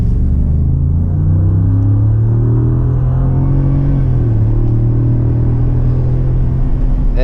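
A 2020 Ford F250 Super Duty with a 7.3-liter V8 and 10-speed transmission rumbles deeply while driving, its engine note climbing smoothly under acceleration, heard loud and continuous from inside the truck.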